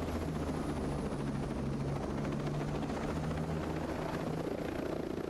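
A helicopter in the tactical shooter Ghost Recon Breakpoint drones on steadily and close, its rotor hum and whine unbroken throughout with no one speaking.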